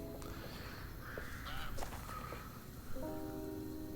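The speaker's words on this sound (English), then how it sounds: "Just the birds." Crows cawing in a garden, a few harsh calls at moderate distance over a steady hiss resembling light rain, fairly faint overall.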